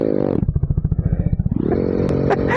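A motorcycle fitted with an N160 exhaust revs close by, dropping into a rapid low putter of pulses on a small road, then rising again into a sustained loud roar with a brief clatter near the end.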